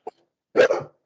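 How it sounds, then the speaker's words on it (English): A pet dog barks at the postman: one short, faint yelp, then a single loud, close, gruff bark that trails off, with no talking. "so the dog is now barking."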